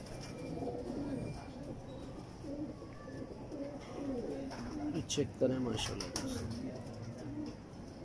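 Pigeons of a Lahore champion pigeon fancier coo in low, repeated calls, joined by occasional wing flaps, and someone speaks over them throughout.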